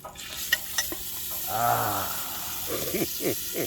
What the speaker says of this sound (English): I'm gonna throw it in the pot and brown it up.